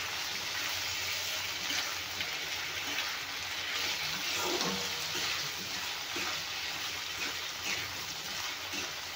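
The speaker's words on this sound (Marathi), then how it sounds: "वांगी सुद्धा तेलामध्ये छान परतून घ्यायचे आहेत, म्हणजे लवकर नरम होतील।" Eggplant pieces frying and being turned in hot oil in a pan, a steady close sizzle with some stirring.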